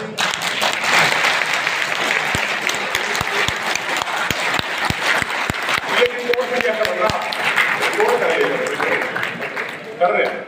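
An audience bursting into sustained applause, dense clapping from many hands filling the room, with a few sharp individual claps standing out and some talk underneath.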